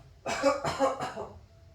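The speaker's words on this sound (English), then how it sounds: "now we will tell the patient to try coughing." Three quick, close coughs in a row from a patient during a postural drainage and percussion session, harsh and breathy, with quiet pauses before and after.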